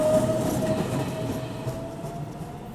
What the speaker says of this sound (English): And here comes the train again.